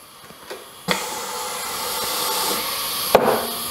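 The shroud on a Morgan injection molding press swings shut with a sharp mechanical clunk, followed by a steady rising pneumatic hiss and a second clack near the end. No one speaks.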